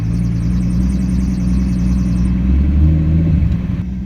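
A drift car's engine at Utah Motorsports Campus runs hard as it slides straight off the track at the first corner. A loud, steady close engine drone swells briefly near the end.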